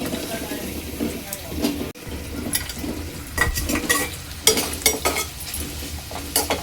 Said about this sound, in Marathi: आता यामध्ये मी तेजपत्ता आणि कांदा टाकणार आहे।